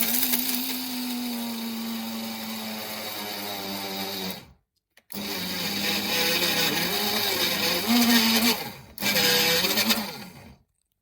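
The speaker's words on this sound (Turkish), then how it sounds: "Evet bademleri öğütüyorum." Raw almonds whirring in an electric grinder, a loud steady motor drone with a brief cut-out near the middle and another short pause before it revs back up.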